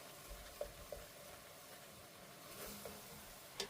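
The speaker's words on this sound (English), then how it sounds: "cook the tomato paste just a little bit" Tomato paste cooking in a pot, a faint steady sizzle with a few soft clicks of stirring, quiet and close with no talk.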